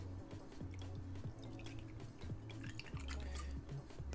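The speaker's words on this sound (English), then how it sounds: "I'm gonna pour some." Gin poured into a glass, a close liquid trickle with dripping and splashing over a low background hum, no talking.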